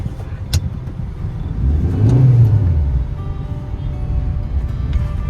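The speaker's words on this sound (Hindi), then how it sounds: "बहुत लंबा ट्रैफिक है यार।" Heavy road traffic on a long jam in Dimapur, with a car passing close by and its engine swelling to a loud whir midway before fading into the steady rumble of idling and moving vehicles.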